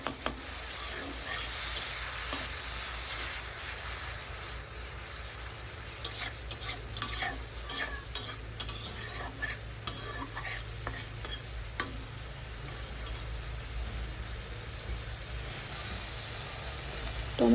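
Curry masala for Bengali katla fish kalia is sautéed with a little water in a pan, a faint steady sizzle and hiss with bursts of scraping stirring, close and quiet, no talk.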